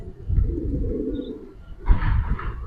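A Giribaz pigeon, a Bengali tumbler breed, gives a low rolling coo up close for about a second and a half, then the coo gives way to a brighter, rougher burst of noise.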